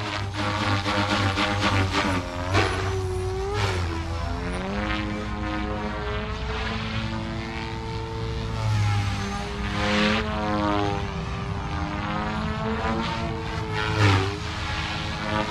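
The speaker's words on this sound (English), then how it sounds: "The helicopter just feels great." A Goosky RS4 or Goblin Raw 420 RC helicopter flying at high head speed, around 3,200 RPM, gives a loud, steady whine and buzz with rising and falling pitch sweeps as it maneuvers, continuous and near throughout.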